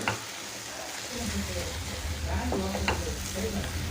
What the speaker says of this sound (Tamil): இது நல்லா ஃப்ரை ஆகணுங்க நல்லா அப்படியே ஃப்ரை ஆகி வரணும் இந்த கறி